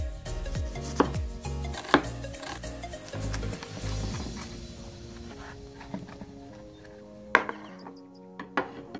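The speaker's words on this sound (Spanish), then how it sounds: "Una vez hemos picado nuestra cebolla y nuestro tomate" Onion and tomato being chopped on a board: irregular thuds and knocks with scattered sharp hits, separated by quieter stretches of clatter and handling noise.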